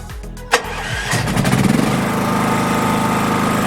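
A Honda power generator engine, left unused for a year, cranks with a sharp click and brief turnover, then catches and settles into a loud, steady running drone close by.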